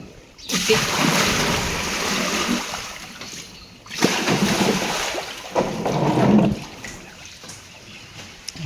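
Water splashing and gushing across the floor while a cattle shed is washed out, in long loud bursts separated by quieter gaps, close by.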